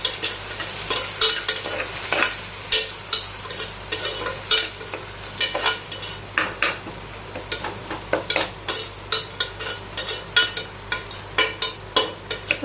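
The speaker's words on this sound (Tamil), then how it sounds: "வெங்காயமும் தக்காளியும் லைட்டாக வதங்கியிருக்கு" Onions and tomatoes with turmeric sautéing in a pan for a Tamil ivy gourd kulambu, a steady sizzle under rapid, repeated ladle scrapes and stirring strokes, close and fairly loud, with no talking.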